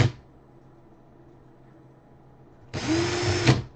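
A cordless power drill spins in reverse to back out and loosen a fastener, a short steady whine of about a second after a long quiet stretch, with faint low background hum.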